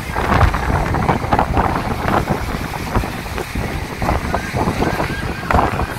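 Strong wind buffets the microphone on a beach at Lazarevskoye in Sochi, a loud, continuous gusting roar with lighter surf beneath, and someone speaks briefly over it.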